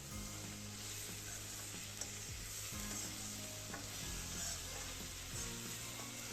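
Half a tomato being stirred into okra sabzi in a pan, soft continuous sizzling with regular scraping strokes of a spoon, quiet and close, without speech.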